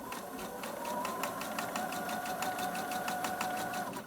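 A sewing machine chain-stitches quilt blocks with a steady, fast mechanical whir and rapid needle clatter running evenly throughout, close and unbroken.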